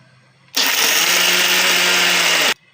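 A mixer grinder whirs loud and steady for about two seconds, grinding cumin and salt, starting and stopping abruptly between quiet stretches.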